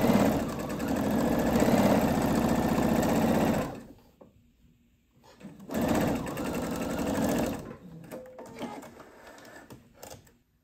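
A sewing machine runs loud and close while stitching fabric darts, two sustained bursts separated by a quiet pause with small handling clicks.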